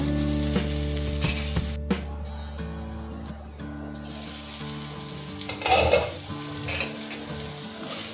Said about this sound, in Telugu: ఉల్లిపాయలు కొంచెం మగ్గాలండి.